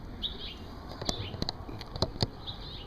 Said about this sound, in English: So we have the baby bird.